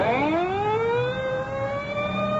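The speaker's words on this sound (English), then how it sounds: "The ambulance is pulling away." An ambulance siren in a radio drama sound effect wails steadily with a rising, sustained tone, loud and close throughout, the sound of the vehicle pulling away.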